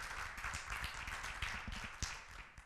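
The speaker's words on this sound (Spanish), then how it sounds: "Démosle un fuerte aplauso al Señor" Congregation clapping for the Lord at an evening church service, a dense steady patter of many hands at moderate distance with a few louder individual claps standing out.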